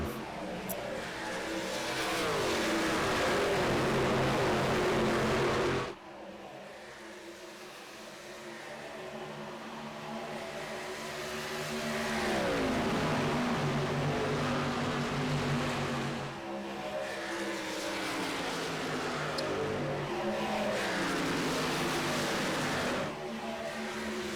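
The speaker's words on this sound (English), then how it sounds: "Green flag out. Mike Nitti gets a huge jump, just like he did last time over the rest of the field." Race cars roar away at the green flag start of the Drivers Pets 225 at Atlanta, engines loud and sustained with rising and falling revs as the field passes, briefly dropping before building again.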